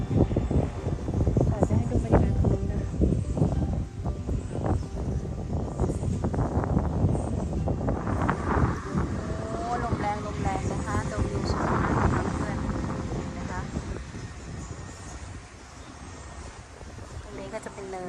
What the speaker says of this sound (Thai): ลมแรงมากเลยนะ ลมแรงค่ะเพื่อนๆตรงนี้